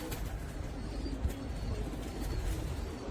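Pigeons, among them a black one and young birds, give soft repeated coos close by over a steady outdoor background, with no talking.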